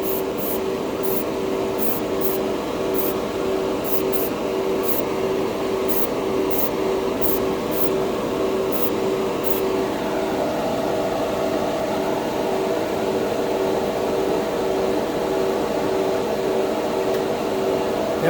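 An airbrush sprays hobby paint in a steady, continuous hiss, close and even throughout, with faint periodic clicks early on.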